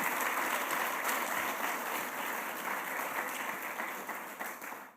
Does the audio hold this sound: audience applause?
yes